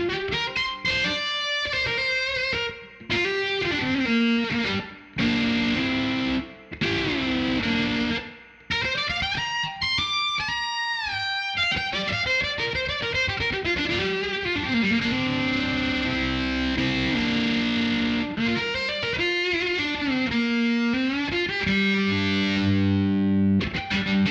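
A sustained electric guitar plays bending, gliding notes through an Evil Pumpkin fuzz pedal, giving a fuzzy, saturated tone, with a few short pauses between phrases.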